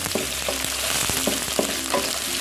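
Rice noodles with chili and spring onion stir-fry in a hot pan, a constant close sizzle broken by rhythmic scraping strokes of the spatula about twice a second.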